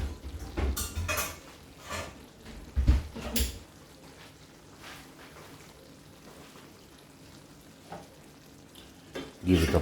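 Cooked pasta sizzles in a hot pan while it is stirred, with several loud clatters and scrapes of utensil on pan at first, then steady quieter frying and a final burst of stirring.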